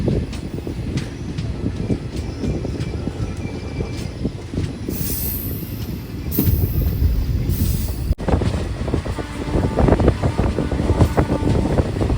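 A passenger train runs along the line from Tiruvannamalai toward Tirupati, giving a steady loud rumble of wheels on rails with squealing and a brief sharp clank partway through, with no talk.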